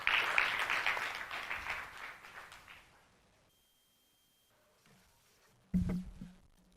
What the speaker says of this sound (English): Let's welcome, with a round of applause, Acting General Manager, Joy Brands, Francis Fifi Kumsen